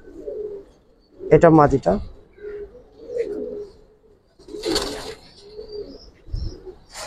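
Giribaz flying pigeons in a loft give low, throaty coos in short bursts between spoken remarks, with a brief flutter partway through.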